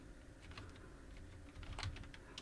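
Close, quiet typing on a computer keyboard while entering CSS code, a quick irregular run of light key clicks with a heavier cluster near the end, no talk.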